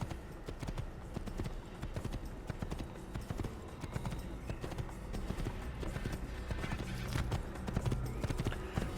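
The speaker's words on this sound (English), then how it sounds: "let's get on our horse" Horse hooves clip-clop steadily in Assassin's Creed, a continuous rhythmic trotting over a busy game soundscape with faint voices and ambience throughout.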